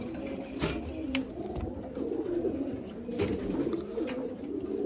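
Pigeons in pairs cooing in Sialkot, soft repeated low coos overlapping from several birds nearby, with occasional sharper flutters or clicks in the background.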